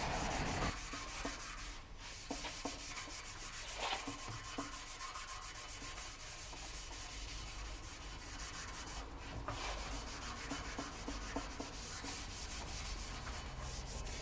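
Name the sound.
sanding a car chassis with coarse-grit sandpaper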